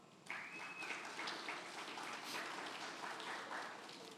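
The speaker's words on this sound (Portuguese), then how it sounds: "Pode aplaudir esse texto?" A church congregation applauding during a sermon, a soft, fairly distant wash of clapping that stays steady for several seconds.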